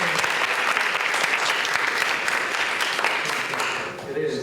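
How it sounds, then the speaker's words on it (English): An audience at The Frank's Careers in the Arts talk with David Chang gives the speaker another round of applause, a thick, steady clapping that holds for several seconds and then starts to thin out. "Let's give him another round of applause."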